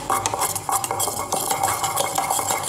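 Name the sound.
stirring epoxy for fiberglass bow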